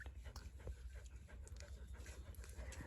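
A female dog pants steadily in quick, rhythmic breaths, close by, with faint background noise and no voices.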